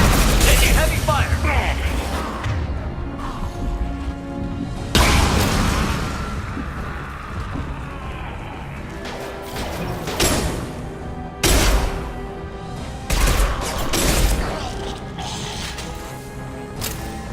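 Sustained heavy gunfire with booming impacts and whooshes in the Mass Effect 2 action game, several loud bursts around a constant rumble, with voices calling out over the battle.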